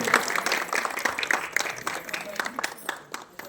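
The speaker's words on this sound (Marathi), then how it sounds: "टाळ्या वाजत राहिल्या पाहिजे" Audience applause at a quiz game show in Satara, a dense patter of many hands clapping steadily, reasonably close, with a few voices mixed into the crowd noise.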